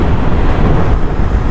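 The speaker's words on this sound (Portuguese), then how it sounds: "o vento a bater-nos no pelo menos aqui na zona do pescoço e da frontal do capacete" Loud, steady wind buffeting the helmet and microphone while riding a 2020 BMW F900R naked motorcycle on a cold day around 12 degrees, a continuous broadband roar with no talk.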